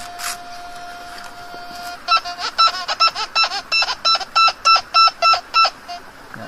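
A metal detector used for gold prospecting sounds a steady electronic tone, then switches to a rapid series of about a dozen loud, evenly spaced beeps as it detects metal, close and with no talking.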